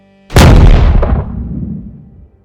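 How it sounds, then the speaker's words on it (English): A flashbang grenade goes off in a dungeon-like basement boiler room, one loud sudden blast that rings out and decays over about two seconds, with no voices. "This explosion was even louder than the others as it echoed through the dungeon-like basement."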